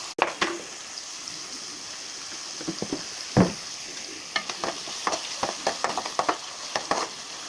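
Onions fry in a pan with crushed cumin, dried chili and garlic, giving a steady soft sizzle broken by frequent scraping stir strokes, moderately near, with no talk.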